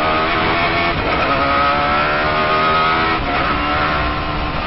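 A Radical sportscar racing on the Nurburgring accelerates hard, its engine a loud, steady, high-revving roar that holds close and continuous throughout.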